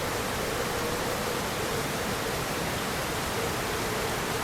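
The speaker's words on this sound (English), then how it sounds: "It's super windy." Steady roaring wind mixed with loud rain in the video game Lost Odyssey, a dense broadband wash that holds constant and loud for the whole stretch with no voices.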